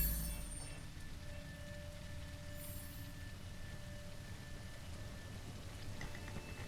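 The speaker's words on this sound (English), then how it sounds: "It's starting to rain." Steady rain hisses softly and evenly for several seconds in a dim outdoor game setting, a continuous wash of light patter with no voices over it.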